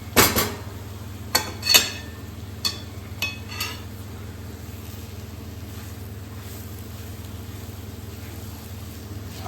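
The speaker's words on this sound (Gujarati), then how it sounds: "પણ મિત્રો એને હલાવતા રહેવાનું છે." A metal spoon scrapes and knocks against a pan while gram flour is stirred and roasted for mohanthal, with a few sharp clanks early on and then a quieter steady scraping.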